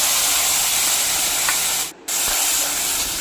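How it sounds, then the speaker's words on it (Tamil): Tamarind and dried chili paste tempering in a hot pan with mustard seeds and urad dal, giving a continuous loud sizzle and hiss that briefly cuts out before resuming. "கொஞ்சம் நேரம் தாளிச்சு விடுங்க"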